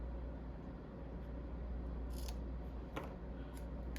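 Scissors snip a paper strip for a handmade greeting card, with a few faint, quick cuts over a steady low background hum.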